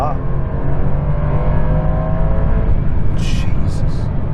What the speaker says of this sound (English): Like drop 4 gears. The kickdown is definitely better than on the old Turbo S.